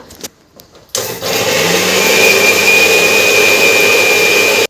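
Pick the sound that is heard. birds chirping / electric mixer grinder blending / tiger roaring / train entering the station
electric mixer grinder blending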